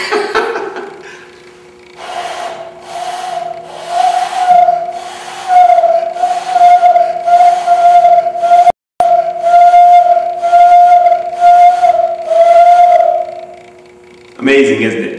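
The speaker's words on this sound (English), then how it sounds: "he taught me how to make a whistle using my hands" A steady, pure whistle made through cupped hands holds one pitch for over ten seconds, loud and close, wavering slightly, with a brief break partway through.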